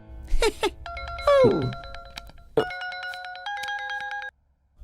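A mobile phone ringtone plays a repeating electronic melody with bright sustained tones during an outgoing call, loud and close, with short voice-like sounds at the start and then an abrupt stop.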